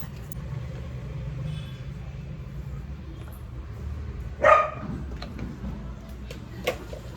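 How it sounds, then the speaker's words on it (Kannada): A pet dog at home barks at a visitor: one short, sharp bark near the middle and a fainter yip later, close by over a quiet indoor background. "ಯಾರೋ ಬಂದಿದ್ದಾರೆ, ಅದಕ್ಕೆ ಗುಂಡ ಅಷ್ಟೊಂದು ಬೊಗಳುತ್ತಾ ಇಲ್ಲ."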